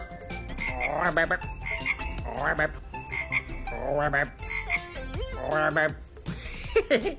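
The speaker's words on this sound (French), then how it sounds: "Une grenouille. Vous voyez la grenouille?" A frog croaks in several loud, close, raspy bursts spaced a second or so apart, mixed with voices talking and playful vocal sounds throughout.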